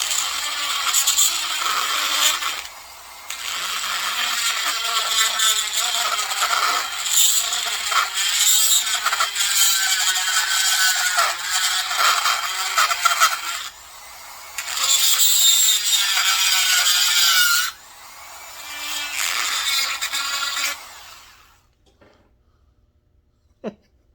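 A rotary tool with a tile-cutting bit grinds out the exhaust port of a Pro Mac 700 chainsaw, a loud high whine with gritty chatter in long bursts, pausing briefly and stopping near the end.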